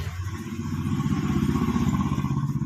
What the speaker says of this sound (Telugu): ఇప్పుడు ఆన్ చేస్తున్నాను ఇప్పుడు మనకి లోపల మోటార్ ఆన్ అయింది